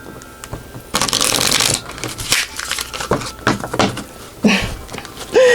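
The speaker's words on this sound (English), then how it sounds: "We ain't gonna let you shuffle these cards right." Tarot cards being shuffled, with bursts of riffling and rustling at close range, one long flurry followed by shorter taps and slides, under faint background sounds.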